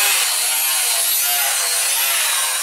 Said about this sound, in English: Starting to cut the lid off.